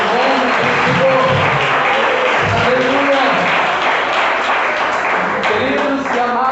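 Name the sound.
applause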